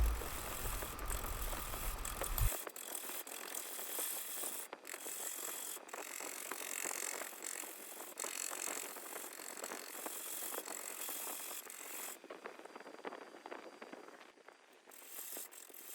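A wood lathe spins a tamarack burl bowl held in a jam chuck while the tenon on its base is turned away: a steady, bright rasping hiss of the cutting tool with faint rattling, loud and close, without talk.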